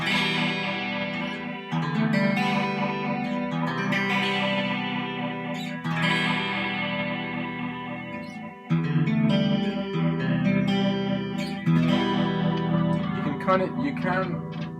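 Electric guitar through a large chorus pedal, with a lush, wavering effect, strummed chords ringing out continuously with a brief pause near the middle.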